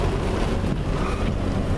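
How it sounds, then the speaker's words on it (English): Strong storm wind blows across a lake beside a boat at a pier, making a dense, continuous roar of gusts and buffeting with no pauses. "Alright, we got hit in that storm."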